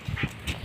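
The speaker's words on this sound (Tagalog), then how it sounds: "Yung asong makulit, grabe." A dog out on a walk gives several short, close yips and whimpers in quick succession, loud and alone.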